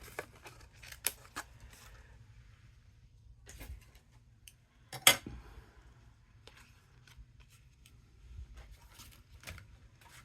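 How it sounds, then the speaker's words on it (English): Scissors snipping through a piece of white scrap paper at a craft table, with a few sparse close clicks and one sharper cutting snap midway amid quiet handling. "So I just cut a piece of my scrap here."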